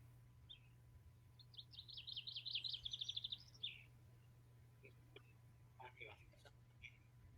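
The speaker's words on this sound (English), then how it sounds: "I can hear some bird song, can't you?" Bird song drifting in from outside during an indoor shiatsu session: a fast trilling phrase of bright chirps, then scattered quieter calls, faint and distant over a low steady hum.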